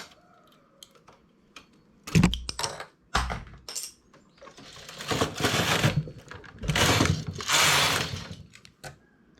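Knitting machine needles being pushed and pulled by hand to cross stitches into a cable braid, giving a series of close mechanical clicks and scraping slides in uneven bursts, loud and near, with no talking.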